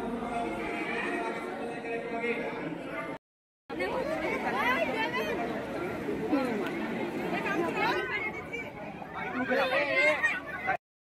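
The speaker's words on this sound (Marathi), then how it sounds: "शनिवार आणि रविवार असल्यामुळे पर्यटकांची गर्दी देखील पाहायला मिळत आहे।" Crowd of tourists at Ganpatipule beach on a busy weekend, a steady babble of many voices chattering close and far, continuous and loud, broken by a brief silence early on.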